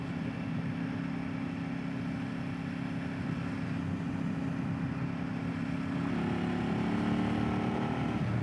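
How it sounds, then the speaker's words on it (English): A 2022 KTM 890 Duke motorcycle's exhaust growls with a steady low-pitched drone, rising slightly in pitch and loudness near the end as the engine revs, no speech. "Sound coming out of its exhaust is quite nice. It's a lovely growl."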